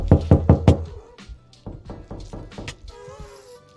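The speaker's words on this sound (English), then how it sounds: "Am I the only person that heard that knocking?" A knocking sound effect played through a stream extension during a live game stream: a quick burst of four loud hard knocks, then a softer scattered series of thumps and faint tail noises.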